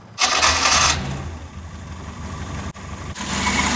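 A Ford Escort Mk2 with a freshly rebuilt carburettor and fuel pressure regulator cranks and catches, then settles into a steady, close mid-pitched idle with a brief dip partway through.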